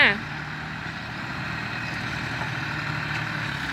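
A tractor engine drones steadily while it is used to push over large trees on a sugarcane and cassava farm, a continuous low, heavy rumble at close range that holds throughout after a brief louder start.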